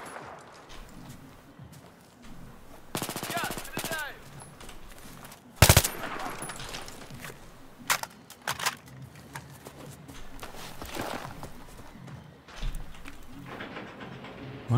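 Bursts of gunfire from a weapon in the shooter Battlefield 3, rapid rattling volleys and sharp single loud cracks spread across the clip, with faint game sounds between.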